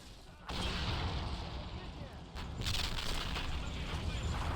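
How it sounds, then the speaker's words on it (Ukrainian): Heavy low booms and rumbling blasts of distant artillery fire in the video game Men of War, with a sharp burst near the start and another midway, over constant background rumble. "Артилерія працює дуже-дуже добре"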